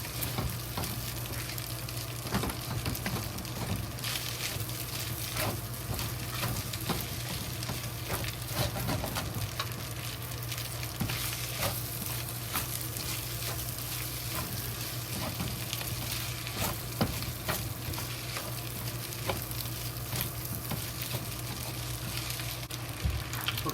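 Fried rice with bacon sizzles steadily in a pan over low heat, a continuous close crackle with scattered pops and occasional stirring scrapes throughout.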